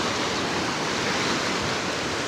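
A flooding river surges past close to a bridge after heavy rain, its water rushing in a loud, continuous roar with no pauses.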